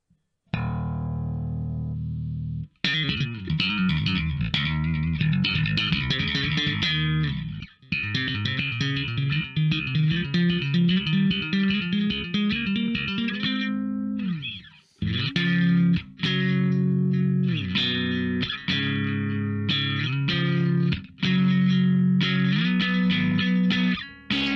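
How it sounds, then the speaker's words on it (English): A 1990s Japanese-made Fernandes LEB-2N bass guitar played with a heavily distorted, effects-laden tone, loud riffs in sections separated by brief breaks. "Distorted there, but that's how that's meant to be played."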